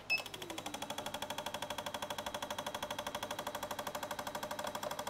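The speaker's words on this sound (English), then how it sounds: "Let's try an idle spray volume test" An Autool CT160 fuel injector tester runs an idle spray volume test, firing a fast, even train of rapid ticking pulses, steady and fairly faint throughout.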